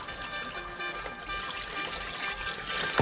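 Crabs being washed in water: steady, close sloshing and trickling, a continuous wet swirl with a small splash at the very end, no talk.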